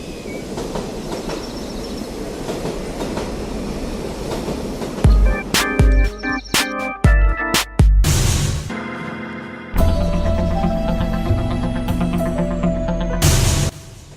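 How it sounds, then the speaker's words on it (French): A TER regional train rolls slowly into a station, a rumbling approach building into clattering wheel knocks and sharp metallic squeals, then loud sustained brake and wheel screeching near the platform before easing, with no voices. "Le bruit du train couvre celui de ses pas."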